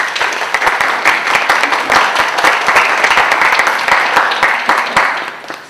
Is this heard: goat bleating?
no